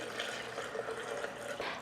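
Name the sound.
water poured into cucumber juice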